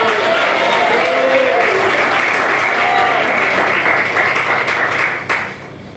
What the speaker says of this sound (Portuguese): Quem bate palmas, glória a Deus.